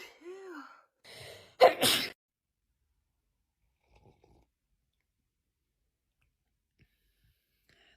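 A woman having an allergy attack sneezes several times at close range: a catch of breath and short gasping sounds, then one loud burst, followed by near silence with faint clicks.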